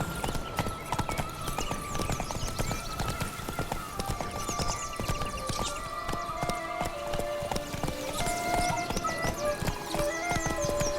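Hoofbeats of Roach, the horse in the video game The Witcher 3, galloping in a steady rapid clip-clop rhythm, close and continuous, with occasional whinny-like calls and faint voices over a layer of game music.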